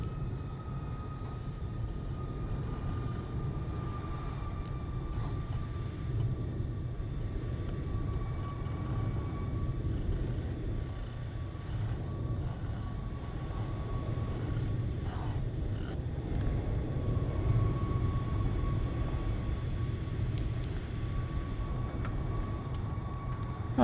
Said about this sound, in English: He's touching down now. Coming in with his Airbus.